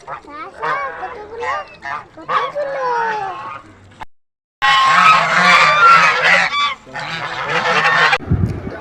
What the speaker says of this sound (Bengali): পাখি নয় এগুলো রাজহাঁস